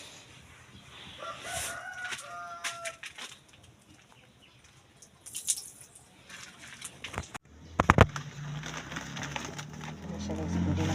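A rooster crows among chickens, with a few crows and clucks heard faintly and at a distance early on, followed by louder nearby thumps and rustling noise.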